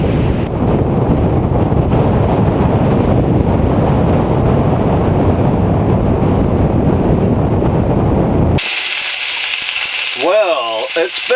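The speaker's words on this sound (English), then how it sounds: "Sure is windy out here." Strong wind buffets the microphone outdoors at a frozen pond by a winter campsite, a loud steady roaring rumble that cuts off abruptly near the end, followed by a brief bit of speech.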